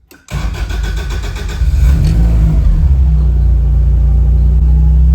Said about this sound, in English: I basically let it crank a little bit more with the coil packs off just to prime it